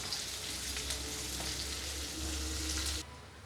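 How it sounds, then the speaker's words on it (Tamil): Onions sauté with salt in oil, giving a continuous close crackling sizzle that cuts off abruptly near the end, with no voices. "நல்லா வந்து பொன்னிறமாக வதங்கட்டும் வதங்கிறதுக்காண்டி கொஞ்சோண்டு உப்பு போட்டுக்கலாம்"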